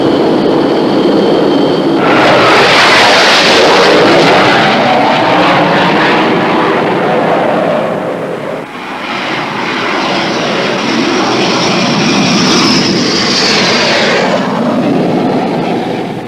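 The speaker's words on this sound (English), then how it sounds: "The English Electric Lightning is an all-weather day and night aircraft" A loud English Electric Lightning jet engine roars steadily nearby at Binbrook, swelling and shifting in pitch with a high whine over a deep, powerful rumble.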